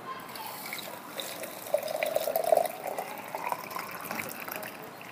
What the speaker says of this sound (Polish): Herbata jest już wsypana do czajniczka, zalewamy po prostu zimną wodą.